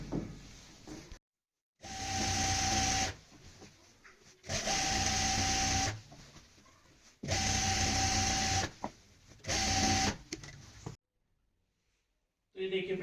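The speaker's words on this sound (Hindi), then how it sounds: "लास्टिक डालने के बाद अब हम बीच सेंटर में लास्टिक की सिलाई लगा देंगे," A sewing machine stitches elastic into a lehenga in four separate bursts, each a few seconds long. It gives an even, whirring motor hum with a steady whine, with short pauses and near silence between runs.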